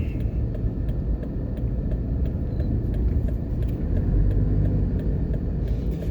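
A car drives across the Hagley Park Road overpass in Jamaica, with a steady low road rumble and engine drone heard from inside, swelling slightly toward the end, with no talking.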